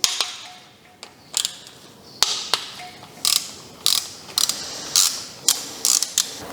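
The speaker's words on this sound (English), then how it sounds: "let's start by removing the fuel rail. We need to undo these bolts." A ratchet undoes the fuel rail bolts on a Mazda MX5 engine, with repeated close clicking bursts in an uneven rhythm and short pauses between strokes.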